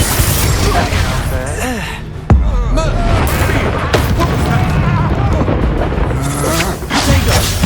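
The Expulso blasting spell booms in Hogwarts Legacy amid busy combat, with one sharp, loud blast standing out among other impacts while voices shout throughout.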